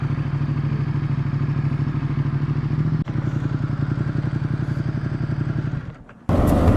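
2017 Ducati XDiavel S motorcycle idling close by with a steady, loping rumble and rapid pulsing beat, a brief knock partway through, then the engine cuts off and dies away before a burst of noise at the end.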